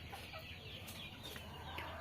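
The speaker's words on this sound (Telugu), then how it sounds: "కోళ్ళు కమ్మేటి ఉన్నాయన్నమాట" Chickens cluck in the evening around a home, a continuous low chatter of soft clucks and calls, faint and somewhat distant over a hiss of background ambience, with no one speaking.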